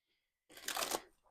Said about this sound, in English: I really want to give a good shuffle